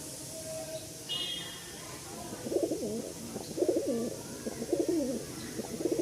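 A male pigeon, a non-flying display cock, coos in a short run of low, rhythmic throaty calls that grow stronger toward the end, with a brief high chirp early on against a steady background hiss.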